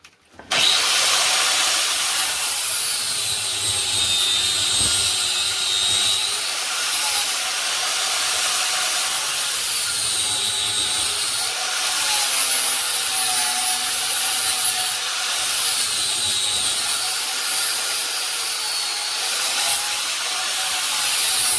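Continuous hissing, rasping sanding runs close by for a long stretch on a homemade motorcycle chopper frame tube, its pitch wavering slightly with each stroke, with no talking.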